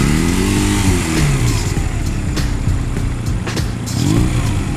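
Motorcycle engine running steadily at low speed during a riding-practice session, a continuous close mid-pitched drone with gentle swells in revs as the bike rolls along.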